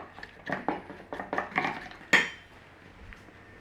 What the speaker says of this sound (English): We're just going to give that a mix up before we season.